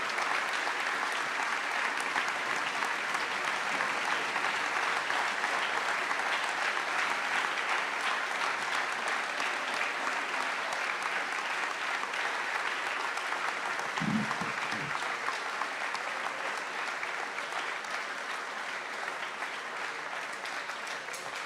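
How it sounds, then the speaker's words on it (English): Sustained, dense applause from a crowd honouring a student speaker at a school event, steady and loud for over twenty seconds before easing slightly near the end. "One more round of applause for Giovanni and standing up here and delivering such a powerful statement."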